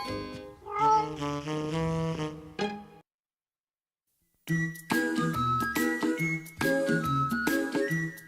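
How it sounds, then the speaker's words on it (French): A cartoon cat in an animated children's show meows in short, tuneful cries with jingling tones, broken by a pause of silence before more meows. "Oh, quel gentil petit chat nous avons."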